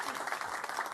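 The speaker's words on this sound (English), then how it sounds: "If we can give him another round of applause" Brief burst of audience applause at a mayor's press conference, steady dense clapping at moderate volume, alone.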